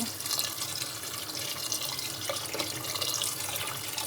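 A steady stream of water runs and splashes into a cooking pot for shrimp sinigang, filling it continuously at a moderate, close level.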